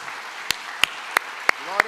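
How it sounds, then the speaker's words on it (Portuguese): Five sharp, evenly spaced claps ring out in a slow rhythm at a church service over a faint hum of room noise. "Vamos aplaudir ao Senhor?"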